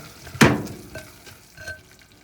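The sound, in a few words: stirring butter into microwave peanut brittle in a cup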